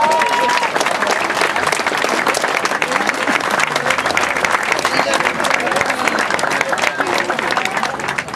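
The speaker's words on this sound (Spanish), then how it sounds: "Un fuerte aplauso." Strong, sustained applause from a large crowd at a Día del Músico celebration during the Santa Cecilia music festival in Tampico, a continuous loud roar of clapping that does not let up.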